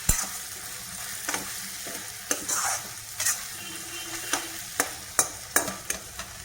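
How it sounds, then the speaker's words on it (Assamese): Diced potatoes and peas fry slowly over low heat in a pan, a quiet continuous sizzle punctuated by a dozen or so sharp, irregular clicks and scrapes of a utensil stirring against the metal. "মই এয়া আলু আৰু মটৰ কাটি লৈছিলোঁ, এয়া ভাজা যাব একেলগে।"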